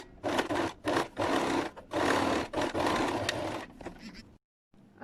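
A sewing machine stitches a 1.5 cm seam allowance in several loud, close motor bursts separated by short pauses, then stops near the end.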